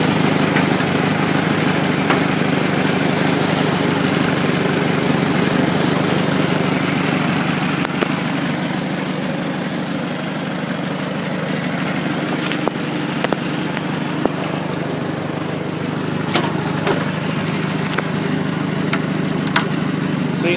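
A 1953 Farmall Super A tractor engine runs at a steady idle, close up, with a constant low chugging drone and occasional small clicks and knocks, no voices.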